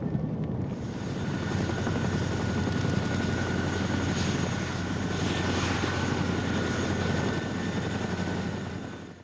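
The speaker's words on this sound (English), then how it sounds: "we boarded the loud CH-47 Chinooks" Loud, steady rotor and engine roar of CH-47 Chinook military transport helicopters in Afghanistan, a dense close drone that fills the whole stretch without a break.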